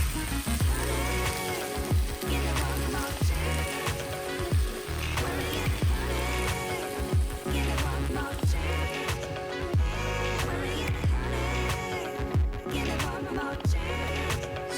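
Eggs poured into a hot pan of frying spinach and black beans, giving a steady loud sizzle and crackle with scraping and stirring throughout.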